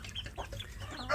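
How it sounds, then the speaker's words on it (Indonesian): Young free-range village chickens (ayam kampung) cluck softly nearby, a few short, quiet chirpy calls over a low background, with a slightly louder call at the end. "anak ayam kampung masih kecil seperti ini"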